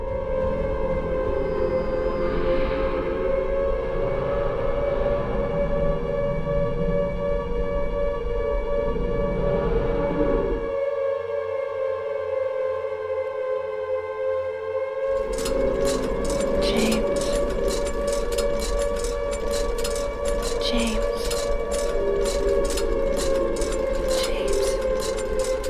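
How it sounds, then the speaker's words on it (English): A loud, sustained wailing siren in the video game Silent Hill 2 holds steady tones throughout, joined midway by a rapid rattling pulse, with an ominous low drone underneath. "you hear a familiar siren"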